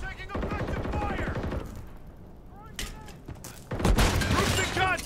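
Gunfire in the video game Call of Duty Modern Warfare III on the Rust map, loud rapid shots and impacts mixed with radio-style voice chatter, a quieter stretch midway, then another heavy burst near the end.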